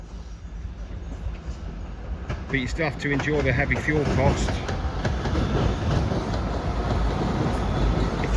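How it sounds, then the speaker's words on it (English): A train passes through Belle Vue and Coleham, a Shrewsbury suburb, as a steady loud rumble that builds and keeps rolling, while someone talks over the start. "here comes a train actually"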